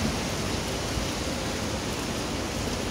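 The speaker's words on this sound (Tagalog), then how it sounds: "Heavy raining." Heavy rain pours down steadily, a dense, loud hiss of water that stays constant throughout with no voices.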